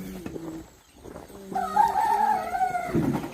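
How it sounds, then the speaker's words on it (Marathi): A village rooster crows before dawn, one long, loud, close cock-a-doodle-doo rising after a brief lull, with a few faint clucks and quiet farmyard noise around it. "कोंबड्यांनी बाग दिली आहे."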